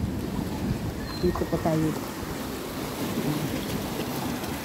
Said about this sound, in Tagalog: So yan po yung hampas ng dagat dito po.